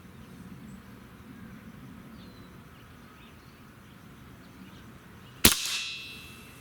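A crossbow bolt from a Barra 1100z Gen II strikes a shotgun shell target outdoors with a single sharp, loud crack and a ringing decay, following several seconds of quiet ambient background.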